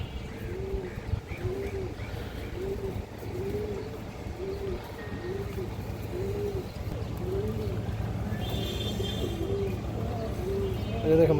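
Pigeons in a seller's loft coo nearby in a steady series of repeated rolling calls, with a low background hum and some faint rustling.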